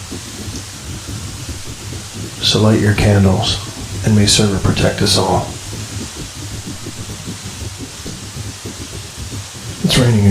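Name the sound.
rain falling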